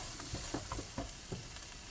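Potatoes sizzling and frying in a frying pan, a soft steady hiss with light crackles and a few stirring scrapes, quiet and close.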